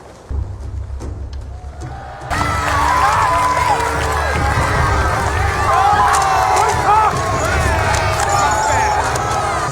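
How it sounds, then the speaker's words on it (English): Crowd cheering for Greyjoy in a Game of Thrones season 7 scene: a brief quieter stretch, then a loud, sustained roar of many voices with shouts and whoops. "Look at them, cheering for Greyjoy."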